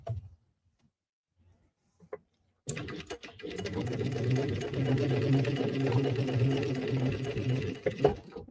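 A sewing machine stitches through vinyl in a steady, rapid mechanical run for several seconds, close and fairly loud, starting after a short quiet pause with a few faint handling clicks.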